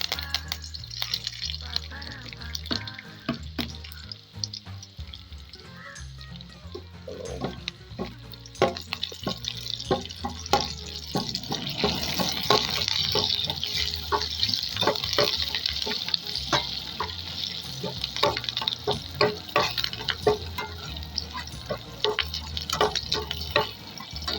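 Onions frying in coconut oil in a pan for prawn theeyal, a continuous close sizzle with frequent sharp crackles and stirring scrapes that grow louder and denser partway through.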